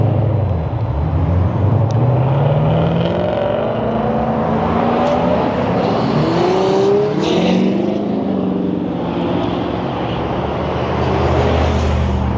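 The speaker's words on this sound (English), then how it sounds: "this is a heavily trafficked area since we got the 215 freeway right behind us" Heavy freeway traffic on the 215 near Durango, a steady loud roar of passing cars with engine drones and tire hiss rising and falling continuously, vehicles sweeping by close throughout.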